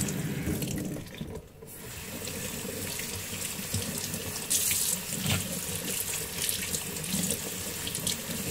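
Tap water runs steadily into a kitchen sink, a continuous splashing hiss that briefly dips and then resumes, close and moderately loud with no talking.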